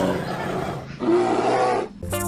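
A bear roars in the video game Animal Revolt Battle Simulator, two loud, close, growling bursts with a short gap between them.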